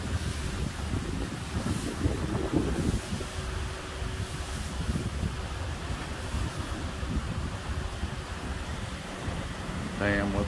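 Wind gusts steadily across a beach resort patio at a marina in St Thomas, a loud continuous rumbling buffet on the microphone with faint surf underneath.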